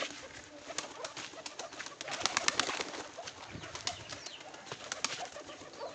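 A flock of domestic pigeons eating feed coos continuously at close range, with scattered sharp pecks and flutters over the soft murmuring.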